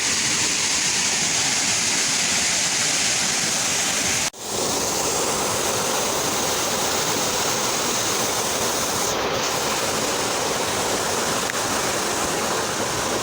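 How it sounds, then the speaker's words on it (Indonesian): A waterfall in Sabang pours in a steady, loud, broadband rush of falling water that holds constant throughout, with one brief dropout partway through. "Inilah dia guys lokasi air terjun di kota Sabang"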